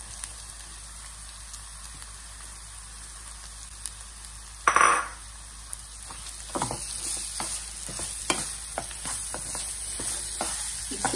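Moong dal frying in a pan with turmeric and salt, a loud steady sizzle with a sharp burst as it goes in, then scraping stirring strokes, with no talk.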